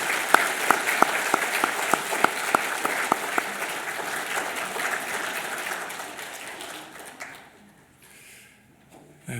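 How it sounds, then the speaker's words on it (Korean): A church congregation at a Sunday service applauds to welcome and encourage a pastor, steady mid-distance clapping at first punctuated by sharp regular claps, then thinning out and fading to near silence. "성도 여러분들 지금 큰 박수로 환영하고 격려하겠습니다"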